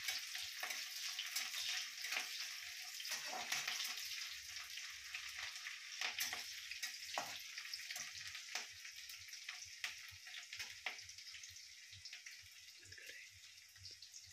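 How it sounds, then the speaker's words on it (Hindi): Onions frying until brown for restaurant-style chow mein, a steady close sizzle with repeated sharp spatula scrapes and clacks against the pan, fading slightly toward the end. "प्याज को ब्राउन कर देंगे पूरा।"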